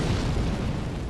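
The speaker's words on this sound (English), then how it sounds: "Profane capital maidens down there shooting the fire at us while we make our way past him" In the Dark Souls III Profane Capital, fire shot by maidens rolls out as a steady, rumbling burst of flame, a dull explosive roar holding evenly for about a second with no voices.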